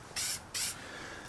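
Two short bursts of Super 77 spray adhesive hiss from an aerosol can onto sheet metal, applied as a light coat during 1966 Mustang fender apron and shock tower repair, each blast about a fifth of a second, close and fairly loud.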